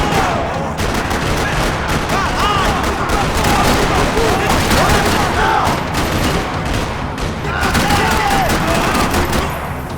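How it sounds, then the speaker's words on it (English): Dense gunfire rattles through a parking lot in the Max Payne 3 video game, with rapid automatic bursts and overlapping shots keeping up a loud, continuous barrage, while voices shout underneath. "Another parking lot rattling with gunfire."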